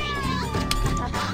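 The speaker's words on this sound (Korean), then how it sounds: "이 고양이 만져봐도 되나요?" A cat meowing in the video game 1BitHeart, one drawn-out mewing call that is close and prominent over quiet game background sound.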